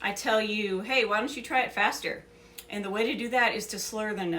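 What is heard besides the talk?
No everyday noises stand out.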